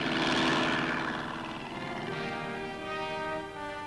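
A patrol airplane's propeller engine drones overhead in an old wartime-era film, loud at first and then settling into a steady humming pass.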